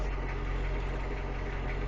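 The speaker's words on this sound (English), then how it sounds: "You can hear it idling." A truck engine idles in a steady, even low rumble with constant vibration. It runs alone with no talking.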